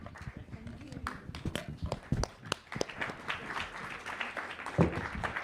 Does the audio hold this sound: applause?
yes